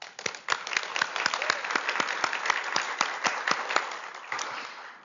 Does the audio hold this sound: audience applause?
yes